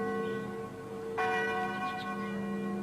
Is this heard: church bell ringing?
yes